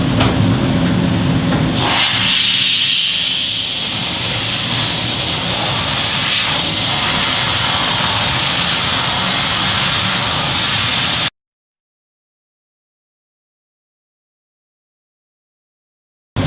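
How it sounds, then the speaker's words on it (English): Compressed air hisses loudly and steadily as it blows a freshly spray-chromed part dry, a close, continuous rush that cuts off abruptly into silence. "And blow it dry right away."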